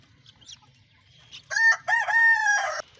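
A rooster in a chicken coop on a rainy day gives one loud, close crow after a few soft clucks, the call rising and holding before cutting off sharply.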